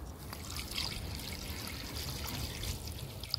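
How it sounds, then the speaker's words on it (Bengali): Chicken pieces on the bone, about 800 grams, rinsed under a steady trickle of running water, a continuous close splashing stream with no talk. "এবার মাংসটা ভালো করে ধুয়ে নিচ্ছি"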